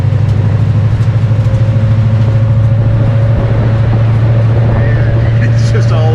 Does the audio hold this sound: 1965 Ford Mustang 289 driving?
yes